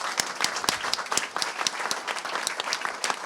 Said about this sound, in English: A big applause for Sania and Gabriele.